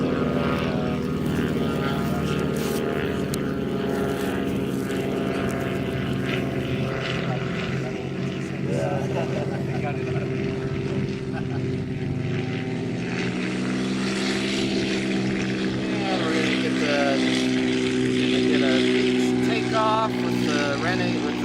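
A Buccaneer amphibious propeller aircraft lands at Oshkosh, its engine droning loud and steady with a shifting pitch throughout, while people talk nearby.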